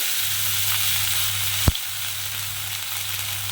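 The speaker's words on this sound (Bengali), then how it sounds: "কড়াইয়ে যেটুকু তেল আছে তার মধ্যে আমি এক এক করে এই যে পেঁয়াজ আর কাঁচা লঙ্কা কুচি করে রেখেছি এইটা দিয়ে দেবো" Chopped onion and green chili frying in oil in a wok, a steady close sizzle with a brief sharp clatter partway through, no talking.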